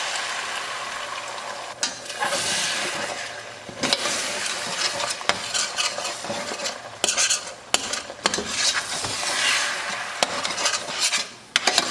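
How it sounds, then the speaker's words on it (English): Eggs frying in butter in a pan for homemade shrimp, chicken and pork fried rice, a steady loud sizzle broken by repeated scraping and stirring clatter from a utensil against the pan. "With that same butter, we're gonna go ahead and lay the eggs."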